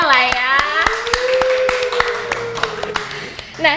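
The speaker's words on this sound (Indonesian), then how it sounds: "tepuk tangan dulu boleh lah ya." Studio audience clapping on a TVRI podcast set, a scattering of sharp individual claps under a voice, fairly near and brief.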